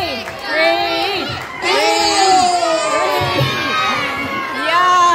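A crowd of children at vacation Bible school cheering and shouting for Mr. Reid, loud and close, with overlapping high voices rising in repeated waves of chanting and yelling.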